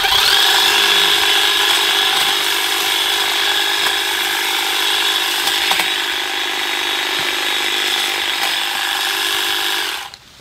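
A Stihl HLA 85 cordless pole hedge trimmer cutting through a tall hedge, a loud steady high-pitched buzzing drone with faint snips of branches, running continuously for about ten seconds before cutting off abruptly at the end.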